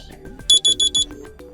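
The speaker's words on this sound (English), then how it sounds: "pick one of those melodies as your alarm sound" Alarm melody from a MediaTek KT107 mobile phone: a quick run of four bright, evenly spaced electronic beeps over a softer background tune. The beeps are loud and close, and no one speaks.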